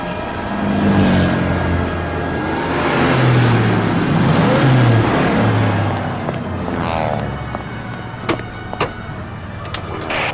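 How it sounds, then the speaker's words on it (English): Several police squad cars in a radio drama roar past up a city avenue, engines loud and rising and falling as they go by, followed by a few sharp clicks and knocks at the end. "I've seen 6 squad cars roaring up 8th Avenue."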